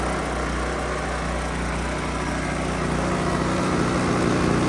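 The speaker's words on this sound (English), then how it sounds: "the cool thing about this little generator is that, yeah, in the dead of the night, it would be loud, but right now, it's not" Small portable generator running at a steady, close-range engine drone, a constant buzzing hum that holds even throughout and picks up slightly toward the end.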